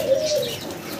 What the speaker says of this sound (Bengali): কম দামে ভালো ভালো কোয়ালিটির কবুতর থাকবে,